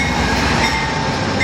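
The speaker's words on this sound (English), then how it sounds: "You can see this is a much longer train." An Amtrak Northeast Regional passenger train at a station, a loud, close, steady rumble of rolling rail cars with faint wheel noise and no voices.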